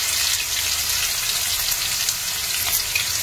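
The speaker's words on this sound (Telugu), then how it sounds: "ఈ ఆనియన్స్ ఇవన్నీ బాగా వేగాయి కదా" Sliced onions with salt fry in a pan for chamadumpa pulusu, a steady, close, bright sizzle with crackling that stays even and continuous throughout, with no talking.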